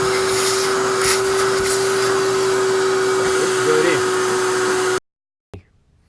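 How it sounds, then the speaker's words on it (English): A vacuum cleaner drones steadily at close range while cleaning a printer's developer unit, a loud continuous whine with a strong tonal hum, then cuts off abruptly and a brief knock follows. "we just finished the vacuuming, so it became much cleaner"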